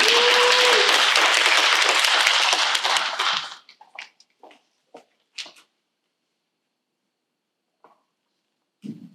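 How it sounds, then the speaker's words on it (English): Audience applause at a small business development event, dense and even for several seconds before dying out abruptly, followed by a few scattered late claps and faint noises in near silence. "And she deserves a round of applause more than I do."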